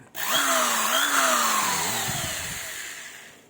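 Electric drill from a newly unboxed parcel, plugged into an outlet for a test run: a loud, steady motor whine starts at once and holds throughout, with pitch shifts as the speed changes and a gradual fade toward the end.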